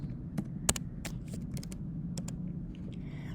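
Brisk typing on a computer keyboard, close and quiet, with a quick run of sharp key clicks and taps in an irregular rhythm against a low room hum.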